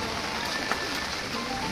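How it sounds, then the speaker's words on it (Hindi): Heavy rain falls over Gondia town in a steady, fairly faint hiss, with a single brief tap or splash partway through and no clear talking. "बारिश भयंकर है"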